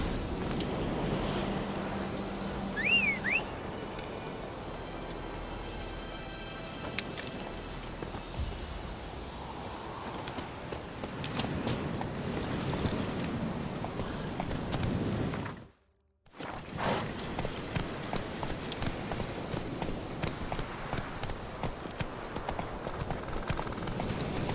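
Roach, a horse in The Witcher 3, trots along with continuous rhythmic hoof clip-clops over game ambience, broken by a brief silent gap before the hoofbeats resume.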